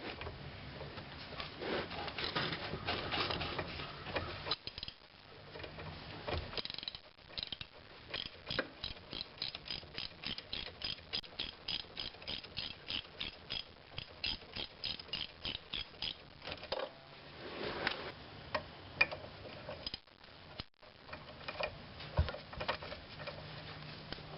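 A ratchet loosens the 3/8-inch Allen bolts on a brake caliper of a GM Grand Am, producing rapid, repeated clicking bursts in steady strokes, close up with brief pauses between runs.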